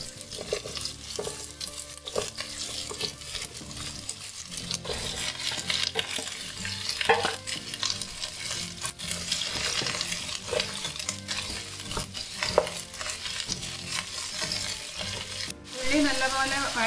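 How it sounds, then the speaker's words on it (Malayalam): Six long-sliced onions fry in oil in a pan for a Malabar king fish biryani, crackling and sizzling loudly and steadily at close range, with frequent stirring scrapes and a brief clatter near the end. "അതിന് വേണ്ടി ഞാനൊരു പാനിൽ കുറച്ച് എണ്ണ ഒഴിച്ചിട്ടുണ്ട്. അതിലേക്ക് നമുക്ക് ഒരു 6 ഉള്ളിയാണ് ഞാനിത് എടുത്തത്."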